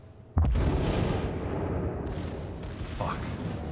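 Enemy ship guns fire at an Iowa battleship in a World of Warships naval battle: one heavy, booming salvo lands near the start and rumbles on, with a sharper report and splash-like noise following later.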